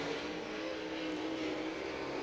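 Dirt Car UMP race cars run hot lap qualifying at Muskingum County Speedway, making a continuous, distant roar of engines that stays steady and dense throughout without any break.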